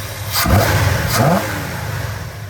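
A 1965 Plymouth Fury II engine revs up loudly, rising in pitch in two quick bursts before settling back toward a steady idle.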